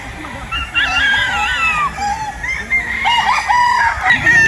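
A tornado hatch gamefowl rooster on a farm crows close by, again and again, with clucking between the calls and faint background noise.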